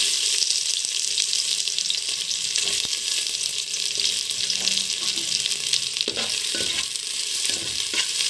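Sliced onions frying in oil for chicken biryani give off a steady, dense sizzle that stays loud and close without a break, with no voices over it.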